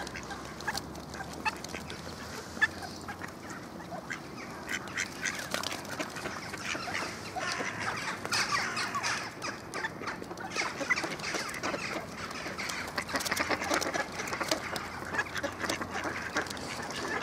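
Ducks are fed at a bird house in Heinola and keep up a busy chorus of quacks and clucking calls close by, while people talk and scatter bread nearby and the calling grows denser toward the end.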